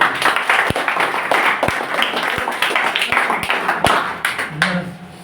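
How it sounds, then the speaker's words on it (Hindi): Audience clapping at a Teachers' Day lecture; a loud burst of applause with distinct sharp claps standing out, tapering off after about five seconds as other sounds begin. "एक बार आप लोग अपने लिए ही ताली बजा लीजिए।"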